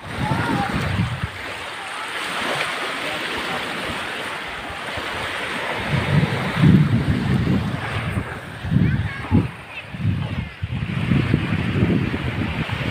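Ocean waves and wind at a beach in Tarnate, Cavite, Philippines make a continuous roar of surf with gusty microphone buffeting. Swells of breaking water come through in the second half, and low voices are mixed in.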